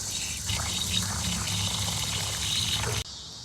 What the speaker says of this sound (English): So I'm gonna wash the beans off right here.